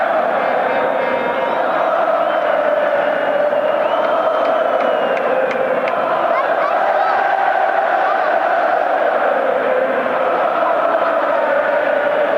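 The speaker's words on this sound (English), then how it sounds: "the crowd get into full voice with Ole, Ole, Ole, Ole" A huge rugby stadium crowd in Pretoria at a South Africa versus Wales test sings a sustained, droning chant in full voice, a loud unbroken wash of massed voices with faint commentary beneath.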